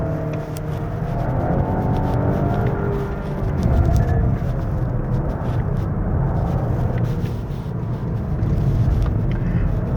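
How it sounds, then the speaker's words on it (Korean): 2024 Volvo S60 B5 FWD engine held at high RPM on a winding mountain road, a steady loud droning roar from inside the car with slight swells in pitch and no pauses. "그리고 엔진도 이렇게 높은 RPM에 계속 있으면 꽤 박력이 있어요."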